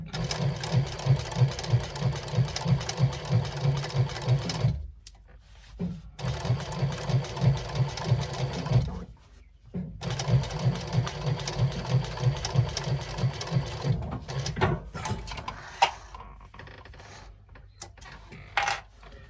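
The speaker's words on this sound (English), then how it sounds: "we're just going to do a 1/8 inch top stitch through all the layers" A sewing machine with a compound walking foot runs steady 1/8 inch top stitching through layers of vinyl, a close, rapid mechanical chatter in long runs broken by brief pauses.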